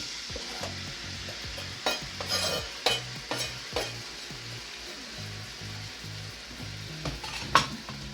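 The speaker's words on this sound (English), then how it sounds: "if you hear that sizzling, she's ready to go. So in goes the chicken." Chicken sizzles steadily in a hot pan, with intermittent stirring scrapes and soft clinks of a utensil against the pan.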